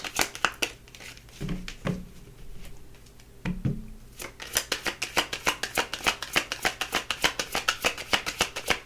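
Tarot cards are handled and shuffled close up, first with a few soft crinkling bursts and then a fast, even run of crisp riffling flicks.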